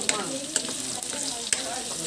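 Garlic and ginger fry in a pan for a provincial tilapia dish, a steady close sizzle broken by a few sharp clicks or taps of a utensil, with a faint voice-like murmur underneath.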